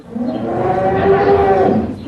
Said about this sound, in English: Bring the cow over here.